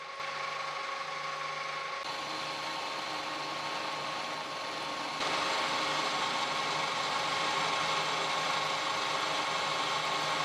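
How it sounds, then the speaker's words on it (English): Metal lathe turning a steel pull stud for a milling machine, the part machined down to 16 mm; a steady whirring machine drone with tonal hum that grows louder partway through, continuous with no talk. "Let's turn on a lathe. The longest part is machined by 16 mm."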